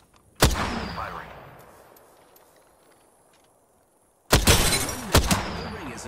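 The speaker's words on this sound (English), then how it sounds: "Firing." Two sharp gunshots in a video game firefight, one early and a later burst with a further crack, each decaying in a long echoing tail, heard without voices.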